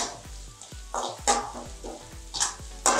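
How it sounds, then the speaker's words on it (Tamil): Chopped onion and green chili stir-frying in a pan, with a constant sizzle and several loud scraping strokes of a spoon at irregular intervals, close by and with no talking. "இதோட கட் பண்ணி வச்சிருக்கிற பச்சை மிளகாய், வெங்காயம் பச்சை மிளகாய் எல்லாம் சேர்த்து நல்லா கிளறி விடுவோம்"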